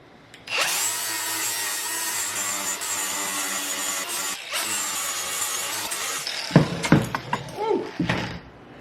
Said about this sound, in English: I'm going to take my flapper disc and sand off where I had the lathe attached